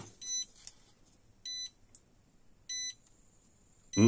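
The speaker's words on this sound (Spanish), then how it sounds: "nos da tres pitidos cortos y uno largo, que significa que el equilibrador ya tiene tensión" High electronic beeps from a NEEY 4th-generation 4 A smart battery balancer sound in a quiet room: three short tones spaced apart, then a longer, louder tone at the end, signalling it has power.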